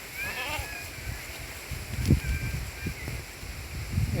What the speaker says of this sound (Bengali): এই ছাগলটা আমার সম্ভবত যেন ডাক নিয়েছে বলে মনে হচ্ছে